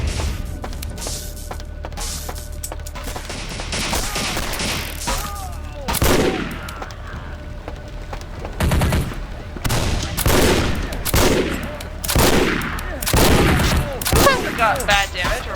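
Machine gun fire from Vampire the Masquerade Bloodlines, played with the Antitribu mod, heard as repeated bursts of shots over a continuous game backdrop, loud and close, with a few short bursts of speech in between.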